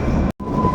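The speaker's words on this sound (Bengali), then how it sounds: "আর আমাদের ট্রেনটা ঠিক এই সময় এরকম বাঁক নিচ্ছে" Kalka Shimla toy train runs steadily through a bend, a loud close rumble of wheels and carriage with a thin squealing tone and a brief dropout midway.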